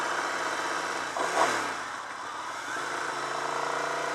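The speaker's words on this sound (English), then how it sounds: "I'm on a different motorcycle." A Ducati 900SS motorcycle engine runs at a steady, moderate idle-like drone from the rider's position, with a brief swell in the middle and a steadier tone toward the end.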